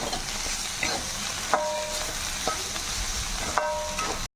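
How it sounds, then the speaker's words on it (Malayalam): A spatula stirs a bitter gourd and tomato stir fry over a low flame. Continuous close sizzling is broken by several sharp metallic scrapes and clinks against the pan, with no voices. "നന്നായിട്ട് ഇളക്കി കൊടുത്തോണ്ട് നല്ലോണം വാടണം"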